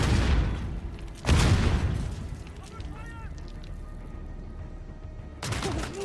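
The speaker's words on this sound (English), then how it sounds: "Grenade." Grenade blasts in the video game Call of Duty Modern Warfare: one heavy boom lands early and a second erupts near the end, both loud broadband bursts over a steady rumble of game noise.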